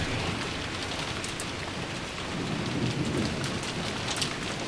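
Rain and thunder in the Umineko video game: a steady downpour with a rumbling storm underneath, dense and continuous, with no voices over it.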